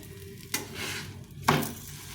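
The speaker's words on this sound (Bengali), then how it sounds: "আমি সাদা তেল দিয়ে ভেজে নেব" Potato paratha frying in white oil on a pan, a soft continuous sizzle close by, with two brief scraping stirs or flips of the flatbread.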